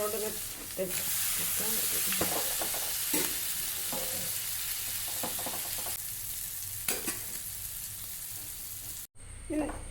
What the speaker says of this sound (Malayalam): നമുക്കിത് ചെമ്മീൻ കുറച്ച് വീട്ടിപ്പൊത്ത് ഫ്രൈ ചെയ്തെടുക്കാം